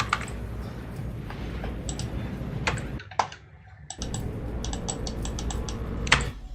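Rapid computer keyboard typing and key clicks during a PC game session of Dungeon Siege III on Steam, steady and close with one short pause, no talking.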